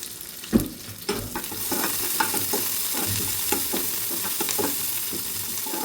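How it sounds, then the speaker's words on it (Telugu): Mustard seeds, cumin and curry leaves sizzle steadily in hot oil in a pan for Rayalaseema-style okra pullagura, with repeated stirring scrapes and clinks over the constant frying hiss. "ఆవాలు, జీలకర్ర అన్నీ వేసి బాగా ఫ్రై చేయాలండి."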